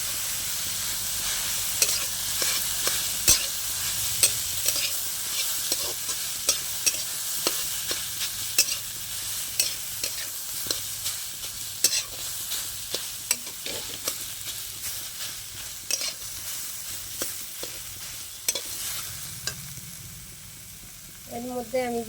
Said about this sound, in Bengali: দিয়ে আমি ভালো করে নেড়ে চেড়ে ভেজে নেব